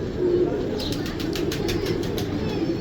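Pigeons from a breeding pair kept for pigeon flying, a run of soft rhythmic wing flaps close by over a steady low background rumble, with no voices.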